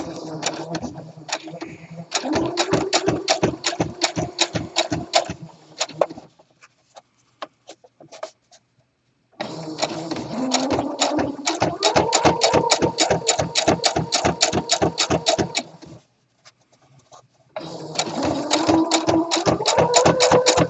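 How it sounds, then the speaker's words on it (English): A sewing machine edge stitching a flat felled seam: long, steady runs of rapid needle clatter, loud and close, separated by brief stops. "Then you sew right on the edge, making sure you catch the fabric,"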